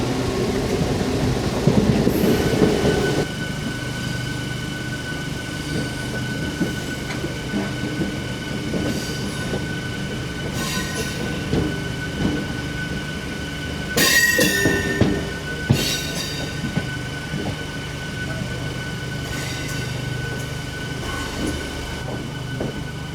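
A MEMU electric commuter train slows on its approach to Thalassery, with steady wheel rumble, rail clatter and brief squeals heard from on board, continuous and fairly loud throughout.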